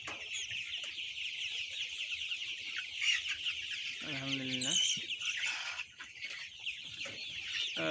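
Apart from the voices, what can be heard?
clucking of 33-day-old broiler and Sonali chickens on farm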